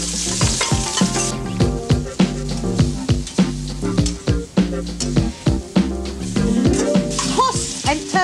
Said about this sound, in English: wok is going to be ready for my stir fry. 2 tablespoons of oil. Beautiful red onions.